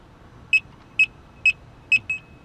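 A Gotway Msuper V3 electric unicycle beeps on power-up: four short, evenly spaced high electronic beeps about half a second apart, then a fainter fifth, close and clear with no talk.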